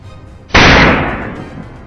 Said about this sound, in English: The relentless crack of gunfire followed it closely, each shot hitting its mark.